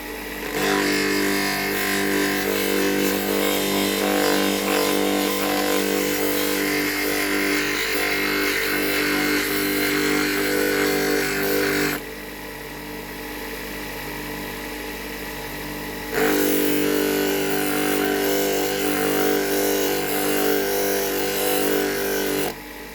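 A flat lap gem cutting machine grinding a hard stone against its abrasive disc, a steady loud motorized whine and rasp that eases for a few seconds midway before returning at full strength, with no talking.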